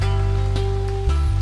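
A rain sound effect in a music track hisses softly beneath a sustained low riff, steady and close, with a few faint swells over the short stretch.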